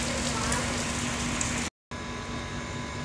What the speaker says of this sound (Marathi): पाऊस अजूनही थांबत नाही आहे